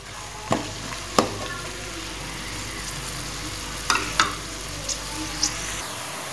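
Onion lightly frying in a pan for masoor dal, a steady low sizzle punctuated by a few sharp spatula taps and scrapes, close by.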